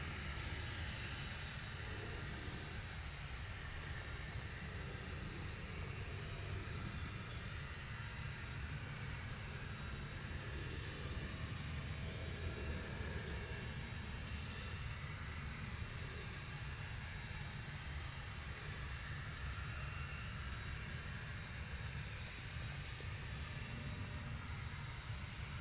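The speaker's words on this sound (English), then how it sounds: "a little Cessna citation. This is off to Montpellier." A small Cessna Citation business jet departs Manchester Airport, heard as a faint, distant, steady engine rumble and whine under outdoor ambience, with no talk.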